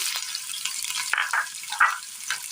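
Finely chopped onion dropped into hot oil with mustard seeds in a Kerala home kitchen, sizzling and crackling steadily, with a few sharper pops and bright spits standing out over the continuous fry.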